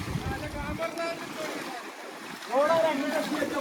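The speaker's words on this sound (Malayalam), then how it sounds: "ഇതാണ് ബോട്ട് തള്ളി ഇറക്കുകയാണ്" A fishing boat is pushed off the beach into the sea at Malappuram, with a steady wash of surf and wind, and a crew shouting and calling out loudly over it near the end.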